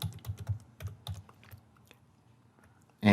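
Quick bursts of typing on a computer keyboard, close and fairly quiet, with uneven clusters of key clicks that slow and thin out toward the end.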